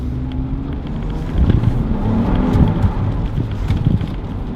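A 2014 Jeep Wrangler engine revs and roars close by while drifting on a street, rising in intensity midway, with wind buffeting the microphone throughout.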